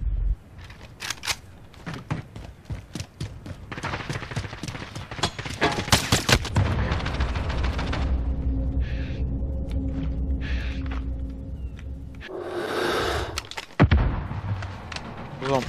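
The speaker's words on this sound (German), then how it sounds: "So, ein paar Schüsse im Schiffgeschütz kriegen, ne?" Gunfire in a Call of Duty: Modern Warfare multiplayer match: sharp bursts and rapid volleys early on, then a rumbling stretch with scattered shots and loud blasts toward the end.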